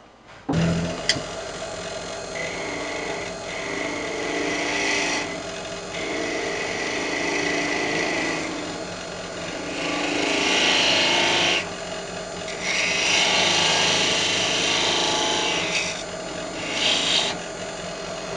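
A wood lathe parts off a walnut lidded box, giving a spinning hum broken by several rasping, scraping bursts of the cutting tool biting into the wood, with short pauses between cuts.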